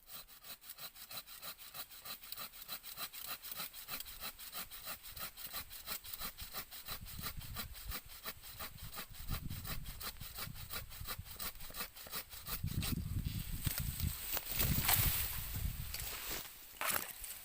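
A hand saw cuts steadily through olive wood with rapid, regular back-and-forth strokes, close and continuous, growing rougher near the end.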